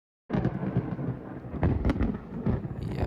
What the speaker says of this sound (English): Yeah, big crack of thunder.